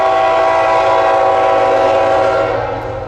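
A northbound intermodal freight train on the Rainey subdivision at Ramshaw Diamond, led by an ex City Rail ES44AC, sounds a loud sustained horn blast close by over steady rolling rumble, the horn fading slightly near the end.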